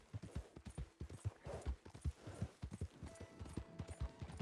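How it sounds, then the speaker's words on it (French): A horse gallops in Red Dead Redemption 2, its hoofbeats thudding in a quick, steady rhythm, close and clear, with no voices over them. "Donc, on peut évidemment galoper."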